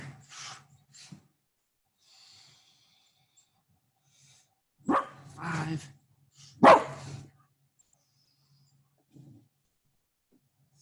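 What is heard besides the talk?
dog barking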